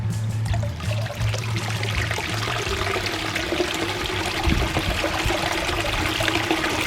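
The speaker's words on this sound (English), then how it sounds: "Now let's turn on the pump to see the waterfall in action." Water from a pump-driven waterfall pouring into a newly filled naturalistic garden pond, a steady, close splashing rush with constant trickling and no voices.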